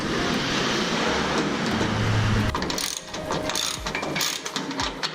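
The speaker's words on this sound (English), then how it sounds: "Okay, all of the wheels are tight, all the bolts are tight, I hope." Caster bolts on a garage tool cart are tightened with a ratcheting tool, producing a dense mechanical whirring that gives way to quick irregular clicks and clanks, close and loud, with no voices.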